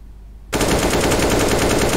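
A sudden loud burst of gunfire erupts after half a second of near silence in a competitive video game match, sustained rapid automatic fire filling the rest of the moment with no voices.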